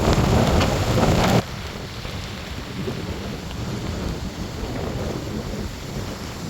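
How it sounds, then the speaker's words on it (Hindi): Steady rain pours outdoors by a riverside along the Jhelum during a thunderstorm. A louder, denser burst of rainfall opens the clip, then it settles into a constant softer hiss of falling water. "आज बारिश हुई है और बारिश के बाद तूफ़ान बाद दोबारा का ये सिलसिला"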